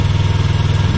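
Motorcycle engine idling steadily at low speed while a rider practices slow U-turns on clutch and throttle, a close, even low rumble with a regular pulsing beat and no talking.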